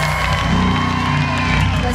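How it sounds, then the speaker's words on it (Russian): An audience at a concert cheers and applauds under a loud musical hum with sustained tones, crowd voices and whoops mixed in. "ваши аплодисменты, дорогие друзья, не скупитесь, не скупитесь"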